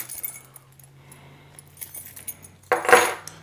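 Keys pulled from the front pocket of a Lowepro Slingshot Edge 250AW sling bag give a short, bright metallic jangle near the end, after quiet rustling of the bag.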